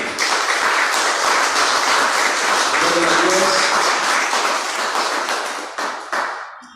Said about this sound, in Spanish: Démosle un fuerte aplauso también.